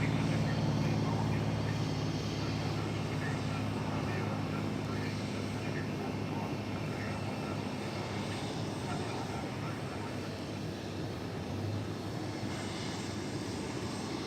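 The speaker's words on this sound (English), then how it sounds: "seeing a plane going flying over us to the north, a small plane" A small plane flies overhead near DFW Airport, its engine a loud, steady broadband drone that fills the whole stretch without a break.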